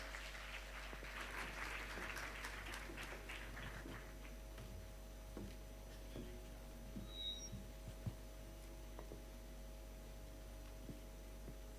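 Applause at a high school graduation ceremony in Kampala, a crowd clapping fairly evenly and fading over several seconds, heard at a distance through a hall sound system with a constant electrical hum underneath.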